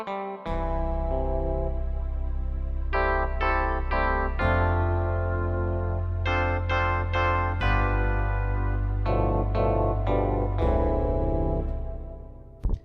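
Keyboard guitar patch playing a melody with a full chord harmony stacked on every note, dense sustained voicings changing in steps over a steady low bass, loud and continuous with no talking.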